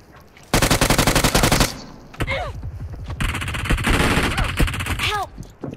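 Loud, rapid automatic gunfire in the mobile battle-royale game BGMI, with sustained bursts of fire broken by a brief pause and with whooshing effects mixed in. Faint voices can be heard underneath.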